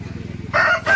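A pathi breed rooster crows close by in an orchard, one loud call cut into two bursts over a low rhythmic engine-like hum.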